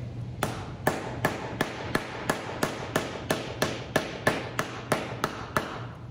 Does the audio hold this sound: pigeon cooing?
no